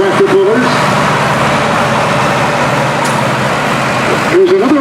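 A 1971 Allis-Chalmers 190 high prop tractor rolls past in a tractor show parade with a steady, loud engine rumble and road noise, while someone talks over it at the start and end.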